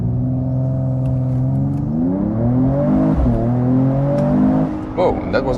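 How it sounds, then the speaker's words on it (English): Mercedes-AMG E53 Cabriolet with its six-cylinder engine and roof up, accelerating hard: a loud, close engine note climbs steadily in pitch through the gears, with a brief voice near the end. "And then I'll show you some acceleration right here."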